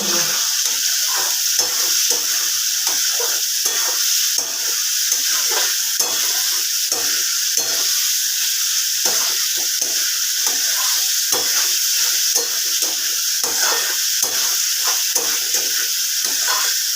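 Potatoes stir-fried in a pan for a Bengali egg curry (dim kosha), giving a steady close sizzle and hiss broken by repeated scraping stirs, continuous throughout with no voices.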